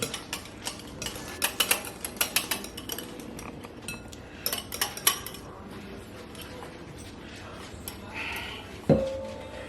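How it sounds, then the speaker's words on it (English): A whisk beats ingredients for a key lime pound cake batter in a mixing bowl, rapid metallic clinks and scrapes in bursts, close and fairly loud, easing off before a single thud near the end. "Let's continue to whisk."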